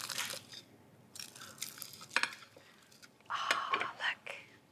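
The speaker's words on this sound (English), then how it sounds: "it's so crispy, listen." A crispy tortilla wrap crunches up close in several sharp, crackly bursts separated by short quiet gaps.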